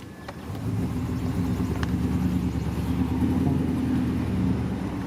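A truck with a drivability fault idles and runs under light throttle, a steady mid-low engine rumble with a faint uneven pulsing, holding fairly constant after a quick rise at the start, with no talking.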